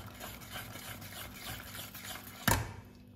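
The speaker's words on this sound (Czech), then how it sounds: "Zamíchám." A spoon stirs dill sauce (koprovka) in a pot with a soft, steady rhythmic scraping and sloshing, ending in a single sharp clink against the pot.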